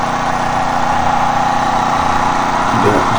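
A 12000-watt, 220-volt generator engine runs at a steady, loud drone, close by, with no voices and no change in pace.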